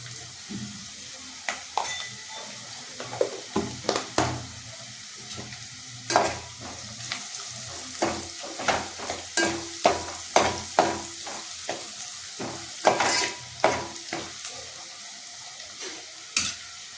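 Asafoetida and turmeric dropped into hot oil while making masoor dal sizzle steadily, with repeated close stirring clinks and scrapes in an uneven rhythm and no talking.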